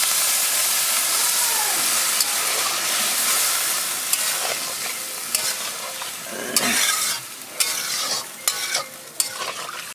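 Water poured into a hot pan of chilli baby corn sets off a loud, steady sizzling hiss of steam lasting throughout, with a few sharp clinks and scrapes of stirring near the end.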